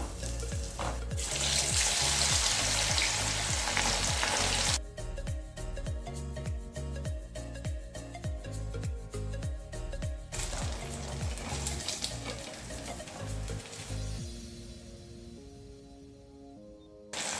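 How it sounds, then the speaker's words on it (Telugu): Pieces of fish fry in hot oil in a home kitchen, one piece at a time. There is a steady crackling sizzle with clinks and scraping of utensils; it cuts off abruptly in places, and a softer, tonal hiss follows near the end. "ఇలా మనం ఒక్కొక్క ముక్క వేపుకోవాలండి. 2-3 వేయొద్దు."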